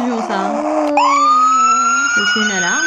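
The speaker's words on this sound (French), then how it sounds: "C'est une alarme." An electronic alarm siren from a toy lamp for a bike or scooter wails with a rising and falling pitch, loud and close, with children talking faintly around it.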